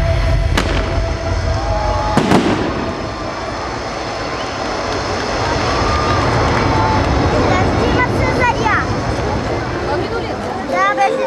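Fireworks over the town of Vratsa during an outdoor show: a dense, roaring rumble of continuous bursts and crackles with a few sharp bangs standing out, loud and sustained throughout.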